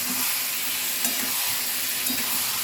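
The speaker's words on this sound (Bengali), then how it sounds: "মিনিট ম্যারিনেট করা মাশরুমটা ঢেলে দেব। সামান্য একটু নাড়াচাড়া করে" Marinated mushrooms fry in a pan with a steady broadband sizzle, while a few soft scraping stirs come through at moderate loudness and nobody speaks.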